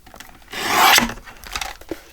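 Scrap paper being trimmed to fit a card pocket, one loud rasping cut that swells and stops abruptly, followed by a few soft rustles and taps close by.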